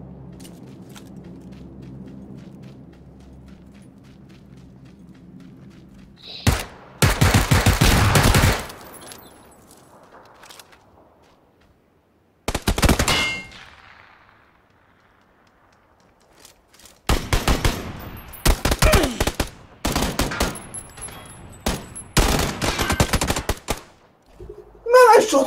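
Gunfire in the video game PUBG arrives in several loud automatic bursts separated by quieter stretches with low background rumble.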